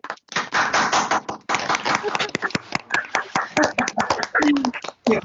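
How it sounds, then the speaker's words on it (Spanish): Scattered clapping from several participants on a video call, sounding clattery like banging pots, with sharp irregular taps running continuously and voices talking over them. "Ahí me sumo en estos aplausos."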